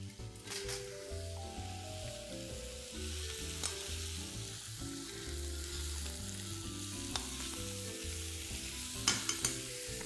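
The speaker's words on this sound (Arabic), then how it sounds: "وهدي البصلايه تقليبه خفيفه كده" Onion sizzles steadily in a hot pan while being lightly stirred, with soft scraping now and then, all under background music.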